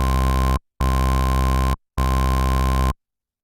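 Three sustained synth bass notes, buzzy and rich, each overlaid with a steady high sine-wave tone two octaves up, separated by brief silences.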